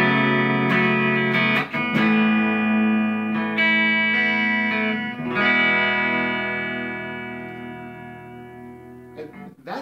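A budget electric guitar, around $100, played through its bridge humbucker with effects: sustained chords and single notes ringing out with chorus-like shimmer and reverb, loud and alone with no voices.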